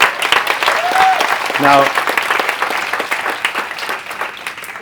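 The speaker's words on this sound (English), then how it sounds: "How about a round of applause for these folks?" Conference attendees at a low-carb research talk applaud in a steady, moderately loud wash of clapping, with a brief voice cutting through partway and the applause thinning slightly toward the end.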